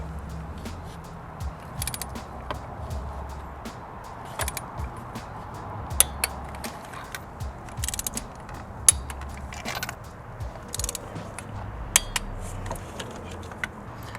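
A ratchet tightens spark plugs in a BMW E38 7 Series engine, giving close, intermittent clicks and metallic clinks over a low background rumble, with no talking.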